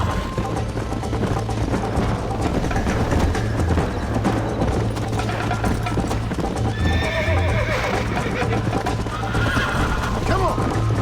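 A horse in Red Dead Redemption gallops with rapid clip-clop hoofbeats and lets out whinnies, loud and close, while people talk over it.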